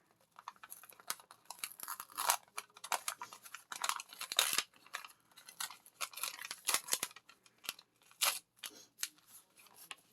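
Cardstock is peeled off its backing paper while making an artist trading card, giving quiet, close crackling and tearing rustles in irregular bursts over about ten seconds, with no talking.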